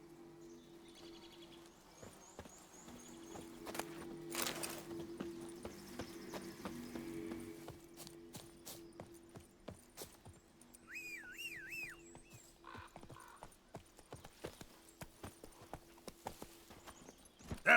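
Roach the horse in The Witcher 3 trots with steady, clear clip-clop hoofbeats that run the whole way through, with some whistling tones and faint ambient game sound behind them.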